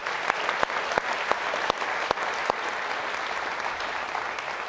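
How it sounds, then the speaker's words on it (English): Audience applause at a Georgetown Law event, a moderate crowd clapping steadily for several seconds with a few sharp, close claps standing out. "Round of applause for Jane, please."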